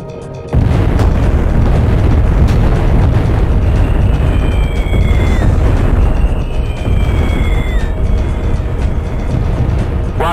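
Artillery fire mission explosions in the Comanche 3 combat game, heard as a continuous loud, rumbling roar of blasts filling the whole stretch, with faint high whistling tones sweeping through midway.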